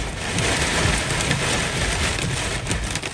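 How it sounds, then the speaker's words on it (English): Hail drums on an RV roof, dense and steady pattering on the thin roof, a continuous heavy downpour of hard impacts with occasional louder hits. "Man, I hope this hail doesn't get any bigger."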